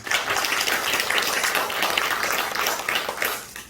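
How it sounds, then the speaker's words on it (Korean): A church congregation at Sunday worship applauds together, a dense, even roar of many hands clapping that stays loud and steady throughout. "우리 그분들의 박수 한번 치겠습니다"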